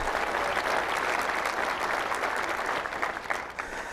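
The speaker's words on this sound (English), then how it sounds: "Round of applause." A large audience at a ski industry summit breaks into dense, sustained applause, loud and full for several seconds before beginning to thin toward the end.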